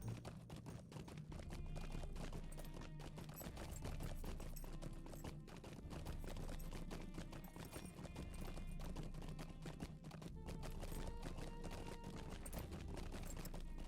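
Horse hooves clip-clop steadily in the video game Lord of the Rings Online, a fast continuous rhythm of sharp footfalls running throughout, with occasional whinnying and faint game ambience underneath.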